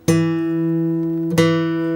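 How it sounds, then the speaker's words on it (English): A guitar's fifth string is plucked twice, each note ringing loud and sustained with a bright attack, the second pluck coming just over a second later. "And then you hit the string, the 5th string here with your pick or your thumb."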